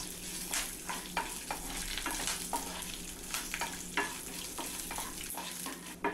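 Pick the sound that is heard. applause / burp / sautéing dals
sautéing dals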